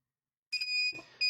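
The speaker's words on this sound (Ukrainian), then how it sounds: "Чуємо звукову сигналізацію." An electronic alarm on a sinusPRO-2000W inverter beeps with a high, steady tone, starting after a short silence, briefly dipping, then sounding again near the end, during a test run without load after repair.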